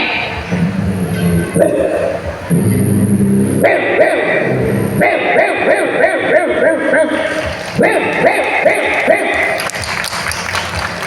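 A voice imitates a big dog barking and growling in rough, loud bursts of varied length, with a brief applause-like clatter and a noisy crowd faintly behind, at the Keraleeyam festival food court.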